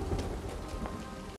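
Steady, dense rain pours down in a period TV drama scene, a continuous loud hiss of falling drops with a faint low rumble beneath, ending abruptly.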